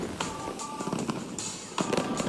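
A fireworks display over Singapore crackles and bangs in quick, dense bursts, a fairly loud and continuous stream of pops and crackles heard from a distance.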